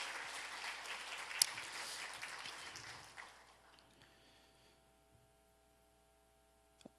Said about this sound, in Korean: 자, 우리 박수로 우리 감사합니다.